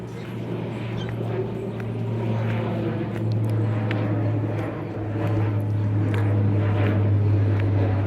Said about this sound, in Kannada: ಮೇಲ್ಗಡೆ ಏರೋಪ್ಲೇನ್ ತುಂಬ ಹೋಗ್ತಾ ಇರುತ್ತೆ ಆ ಸೌಂಡ್ ಕೂಡ ನಿಮಗೆ ಕೇಳಿಸುತ್ತೆ